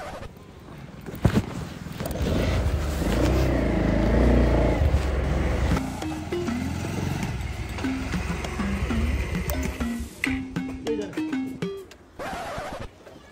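A road vehicle's engine rumbles steadily while driving, a loud broadband drone that runs through the whole stretch, with a few brief tonal sounds rising over it in the second half.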